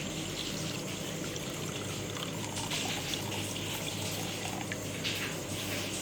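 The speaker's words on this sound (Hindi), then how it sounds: "मैं इसके अंदर हाफ़ कप पानी और शामिल करूँगी" Half a cup of water poured into rice in a pot for yakhni pulao, a steady close trickle and splash that runs for several seconds with no talking.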